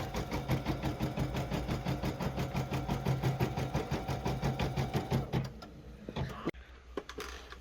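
An embroidery sewing machine stitching a bear design, with a fast rhythmic mechanical chatter for about five seconds before it stops, followed by quieter clicks and handling noise.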